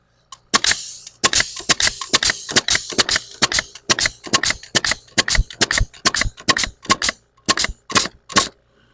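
A nail gun fed by a Makita MAC100Q quiet-series air compressor fires about two dozen nails in quick succession, each a loud, sharp close-up crack with a brief pneumatic hiss and no talking.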